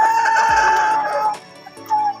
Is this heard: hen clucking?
yes